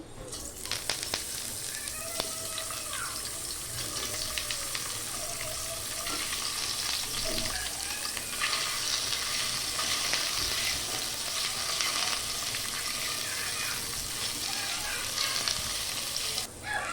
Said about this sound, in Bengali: ডুবো তেলে ফ্রাই হবে না, হালকা একটু তেল দিয়ে দিলেই হয়ে যাবে। এখন আমি বলগুলো দিয়ে দিচ্ছি।